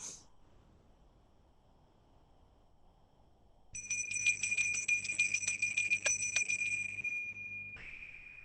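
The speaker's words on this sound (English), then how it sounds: "We can do that one more time because it's such a nice bell." A meditation bell struck once after near silence, its bright ringing tone shimmering with a wavering pulse for several seconds before cutting to a softer fading hum.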